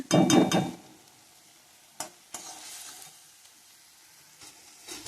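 Ginger-garlic paste masala frying in a pan: a loud burst of sizzling and stirring at the start, then a quieter low sizzle broken by a few sharp spatula scrapes and clinks.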